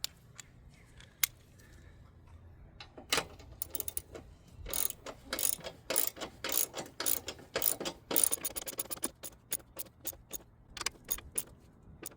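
Socket wrench with an extension ratcheting on a Kia Sportage during strut bar brace installation, a rapid run of sharp clicking bursts, loud and close, with short pauses between strokes and no talk.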